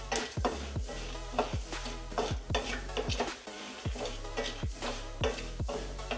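A spoonful and a half of toor dal is dry-roasted in a pan until reddish, giving a steady run of scraping, tapping stirring strokes against the pan over a faint sizzle, with no talking.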